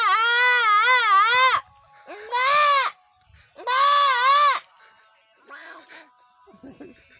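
A voice imitates a goat bleating, giving three long wavering bleats separated by short pauses, loud and close, with softer vocal sounds trailing at the end.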